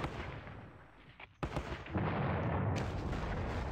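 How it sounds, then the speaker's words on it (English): Return gunfire in a World War II video game battle at Ponyri, a dense roar of shots and booming artillery-like blasts, loud and continuous with a sharp crack midway. "lots of return fire there"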